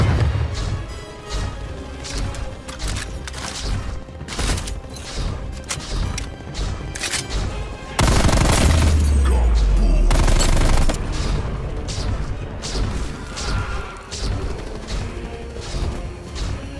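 Rapid bursts of gunfire in Call of Duty Black Ops Cold War multiplayer, loud and dense, with repeated sharp shots and a heavy booming crash midway.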